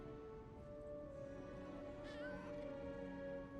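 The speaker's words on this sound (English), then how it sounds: "but the cat's here now." A cat in the video game Lies of P gives a single short meow partway through, heard faintly over a steady game ambience drone.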